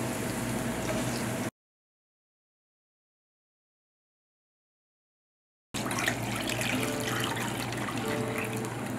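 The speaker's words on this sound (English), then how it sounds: "I just poured 24 ounces of water into a pot" Water pours into a pot for a Korean beef brisket soybean paste stew, a faint, continuous trickling splash heard close by, broken by a long silent gap before it resumes, with no talk.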